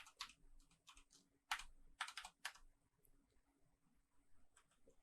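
Close, quiet typing on a computer keyboard, a few quick bursts of key clicks separated by short pauses, with no speech.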